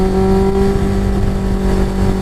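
A Yamaha 600 Fazer motorcycle at about 50,000 km accelerates to overtake on a mountain road, a loud, steady, close engine drone with strong tonal whine and no speech.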